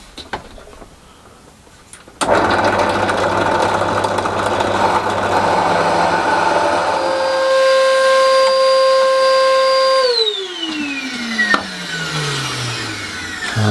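A drill cutting timber plugs from reclaimed timber starts abruptly with a loud whirring, grinding buzz, runs steadily, then its pitch falls away as the motor winds down, with a few knocks near the end.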